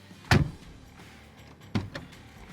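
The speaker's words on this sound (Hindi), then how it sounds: "अब आप ये दरवाजे की आवाज़ सुनो" A heavy steel door of a 2025 Mahindra Bolero SUV slams shut with a solid thud, then a second, lighter thunk follows about a second and a half later, close by.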